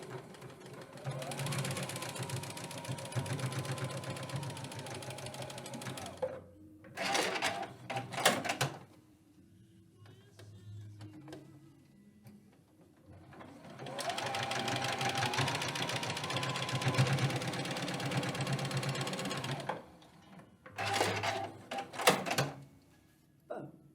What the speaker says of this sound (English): I'm going to do 1/4 inch seams across these long ends now,